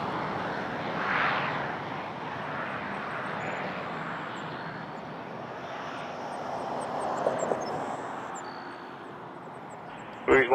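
A Delta airliner takes off from runway 23 at Toronto Pearson Airport, a steady distant jet-engine roar swelling gently in waves, with faint voices in the background.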